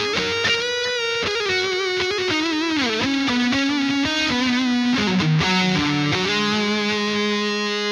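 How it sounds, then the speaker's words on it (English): Electric guitar played through an MXR Carbon Copy analog delay pedal on a pedalboard, a sustained, slightly overdriven melodic line with repeating echoes trailing each note, loud and close, with no voices. "Then I can add some delay, which is the MXR carbon copy."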